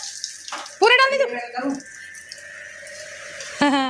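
Water pouring and splashing into a container for a cow at a house doorway, a running, tap-like gush heard under loud nearby voices talking.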